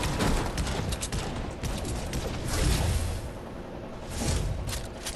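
Video game gunfire from a player shooting for fun: dense volleys of shots and booming blasts rolling in waves, loud and close, with no talk over it.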